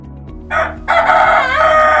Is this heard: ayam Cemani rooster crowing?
yes